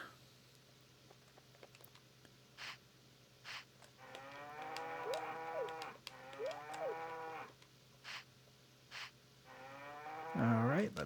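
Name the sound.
cows mooing in video game Harvest Moon 64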